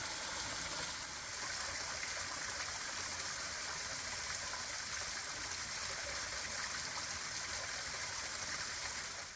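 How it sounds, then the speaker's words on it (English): A small waterfall on a Kentucky creek gives a steady, even rush of falling water, a soft broadband hiss that holds constant throughout with no voices over it. "Nice little waterfall though."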